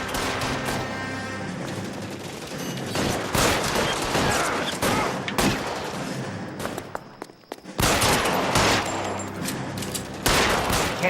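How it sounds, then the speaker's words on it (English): Rapid bursts of gunfire crackle through a shootout in L.A. Noire, with dense volleys and sharp single shots coming back again and again over about eleven seconds. A short quieter gap falls in the middle before the firing picks up again, loud and close. "See how the shooting goes here."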